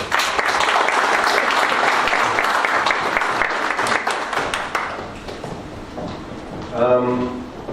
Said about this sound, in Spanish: Les pido un fuerte aplauso para el doctor Alfredo Pucocha